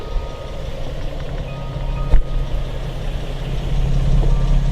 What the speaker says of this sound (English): You can kind of hear it here. Kind of noisy and rattly.